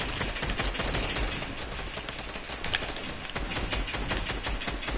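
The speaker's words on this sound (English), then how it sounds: "I like that sound when two scars shoot at once." Two SCAR rifles in Fortnite firing at once, rapid overlapping automatic shots in a dense unbroken stream, loud and close throughout.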